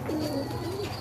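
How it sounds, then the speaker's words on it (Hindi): A large golden pigeon on a rooftop gives a short, soft rolling coo, a single low warbling call heard close by. "ये मेरा बड़ा गोल्डन कबूतर है"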